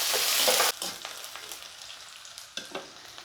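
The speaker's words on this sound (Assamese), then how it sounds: "পিঁয়াজখিনি অকণমান ৰঙচুৱা হোৱালৈকে ভাজি ল'ব।" Onions fry in a hot pan with a loud, bright sizzle that drops abruptly partway through, then settles into a softer crackle with a few sharp stirring clicks.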